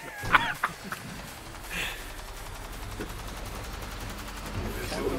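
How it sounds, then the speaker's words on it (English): Gunfire in GTA V, a few sharp shots popping early on over a busy game soundscape with clucking-like chirps and background noise, while voices are faintly present. "Why are you trying to shoot me, you idiot?"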